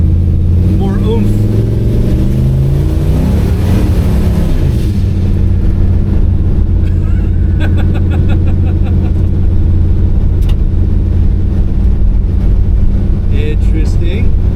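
A 1954 Chevy engine idles steadily and loud and close, just fitted with a new fuel pump and low on fuel, with a brief surge in pitch early on and wind buffeting the microphone.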